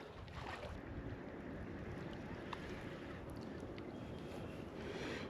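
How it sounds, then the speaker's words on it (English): Strong wind buffets the microphone on a fishing boat out on open water, a constant loud rumbling roar with faint water sounds underneath and no voices. "It is getting really, really windy."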